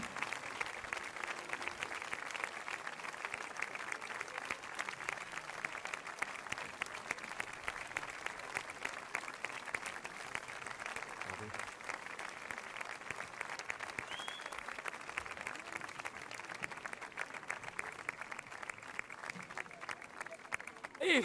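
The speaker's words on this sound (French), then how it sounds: "Voilà, sous vos applaudissements." Outdoors at an archery competition final, an audience gives sustained, fairly soft applause for the king and prince winners, steady scattered clapping with a faint murmur of voices underneath.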